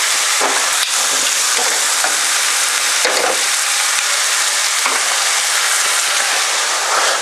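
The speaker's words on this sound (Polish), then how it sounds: "Pieczarki i pulpety nam się podsmażyły." Steady, loud sizzling of chicken meatballs and mushrooms frying in a hot pan, with occasional crackles and pops and no voices.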